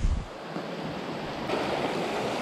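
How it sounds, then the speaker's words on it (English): Water rushes continuously, a steady broad hiss of a flowing creek that stays at the same level throughout with no voices. "Approaching another creek crossing."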